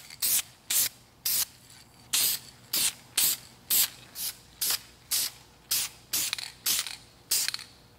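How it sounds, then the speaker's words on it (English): An aerosol can sprays light coats of paint onto a car brake caliper in about fourteen short, even bursts, a sharp hiss repeated at a steady rhythm with brief pauses between passes. "we're ready to start spraying. You just want to make sure you go very light on your first two coats"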